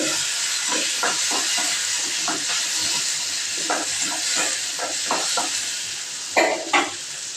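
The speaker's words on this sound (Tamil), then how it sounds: "அது கொஞ்சம் பொரிஞ்ச பிறகு சின்ன வெங்காயம் போட்டு" Small shallots frying in hot oil with fennel seeds, cumin and cloves in a pan for a Tamil kurma side dish, a steady close sizzle with repeated scraping stirs and a couple of sharper clatters near the end.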